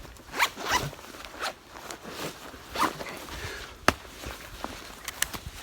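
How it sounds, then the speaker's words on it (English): YKK zipper on a pocket of a 5.11 Rush 24 tactical backpack, pulled in several quick rasping strokes with short pauses between them, close and fairly quiet. "It has two YKK zippers on it, also covered with a flap."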